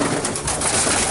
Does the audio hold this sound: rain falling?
no